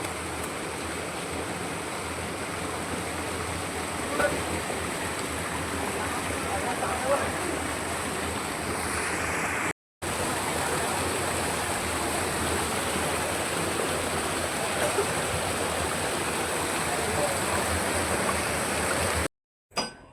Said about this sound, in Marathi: ही नदी आहे हिला आम्ही कोण बोलतो स्वच्छ आणि एकदम छान पाणी